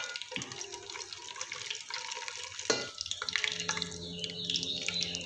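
Whole spices dropped into hot oil for chicken pulao, giving a steady close crackling sizzle with bubbling spits and a sharp pop partway through, continuing without talk.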